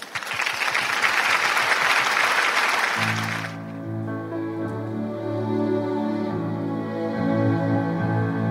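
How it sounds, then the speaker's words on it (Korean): An audience at a church concert applauds an orchestra and choir, a full, dense wave of clapping for about three seconds that stops as sustained orchestral tones begin and carry on alone. "오케스트라 단원들과 중창단을 큰 박수로 맞아주시기 바랍니다."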